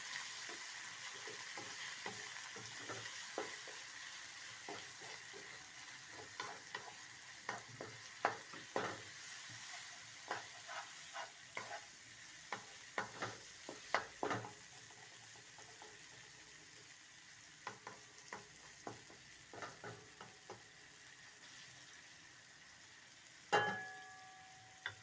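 Tomatoes being stirred into already-fried ginger and garlic in a pan while cooking liver and tripe, a steady soft sizzle broken by repeated scraping clicks of the spoon, close up with no talking, and a sharper knock near the end.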